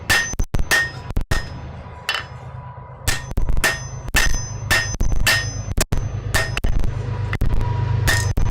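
A lighter hammer striking hot steel while forging a steak flipper at a smithy anvil, giving sharp metallic clangs and ringing dings in an irregular rhythm of single blows and quick pairs, close and loud.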